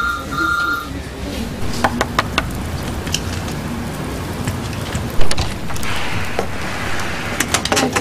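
Steady rain falls outside, a dense constant patter with occasional knocks and a brief louder thump, no speech over it.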